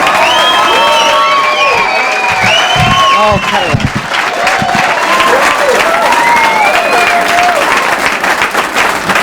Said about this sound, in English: Please, a nice round of applause for Mr.